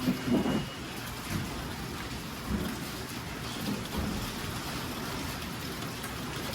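Long steady rain as a dense, continuous hiss with a low rumble underneath, a few soft thuds rising out of the wash.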